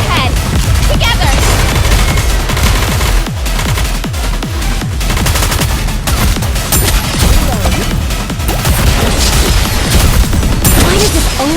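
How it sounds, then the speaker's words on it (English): Dense, continuous gunfire from the Goddess of Victory: Nikke video game, a loud sustained fusillade of rapid shots and booming impacts with battle voices faintly mixed underneath. "You heard Florida? Fire"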